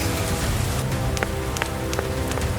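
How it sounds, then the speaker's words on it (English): Cartoon rain falling against a window, a steady soft patter and hiss with a few brighter drop taps scattered through it. "It starts to rain, and Peppa and George watch the drops roll down the window like tiny mirrors."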